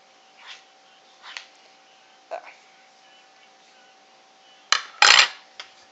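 A spoon scrapes leftover brownie mix from a mixing bowl in a quiet kitchen, a few soft scrapes followed by a louder, sharper scraping burst near the end.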